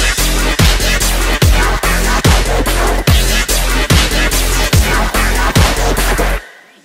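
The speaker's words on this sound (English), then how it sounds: "how to make heavy bass synths in under 10 minutes that sound like this" Heavy bass synth built with the EFM1 synth in Logic Pro X, pounding in loud repeated hits of about two per second, each with a sliding downward pitch drop, then cutting off into silence at the end.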